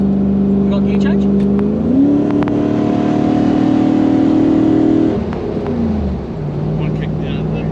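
Toyota Hilux fitted with a 1UZ V8 and automatic gearbox revving up loudly from inside, the engine pitch stepping up then dropping at a clear gear change before settling lower, with someone talking over it.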